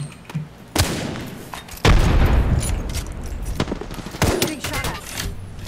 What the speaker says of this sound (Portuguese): Me viu e me deu tiro.